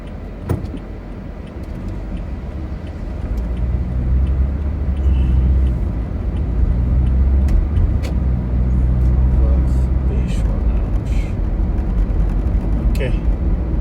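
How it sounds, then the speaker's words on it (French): A bus pulls away nearby, its engine rumble swelling into a loud, steady low drone that fills the street, with occasional light clinks over the top. "J'attends que le bus parte."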